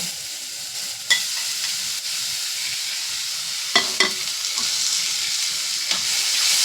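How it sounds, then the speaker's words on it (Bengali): Orange chutney cooking in a pan gives off a steady sizzle and frying hiss, broken by a few sharp scrapes and clinks from stirring, near and with no voices. "কমলা লেবুটা দিয়ে আবার একটু ভালো করে নাড়াচাড়া করে নেব।"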